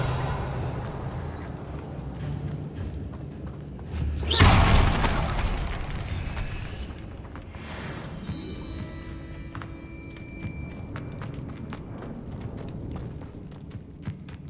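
Confringo blast spell cast in the Hogwarts Legacy video game, a loud booming explosion with a crumbling rumble that fades into scattered debris and clatter, with game ambience and some speech around it.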